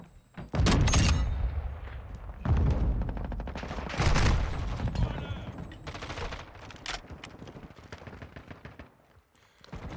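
Sniper rifle shots ring out in a Call of Duty Modern Warfare II match: three loud, booming reports spaced a couple of seconds apart, each with a long rolling tail, followed by quieter game noise.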